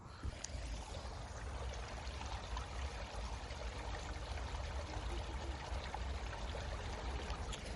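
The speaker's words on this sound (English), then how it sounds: "that was the sound of the lovely wee stream on my left hand side" Small stream flowing beside a countryside path, a quiet, steady wash of trickling water with no voices, faint and continuous throughout.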